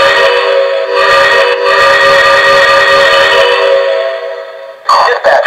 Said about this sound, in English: I love this whistle.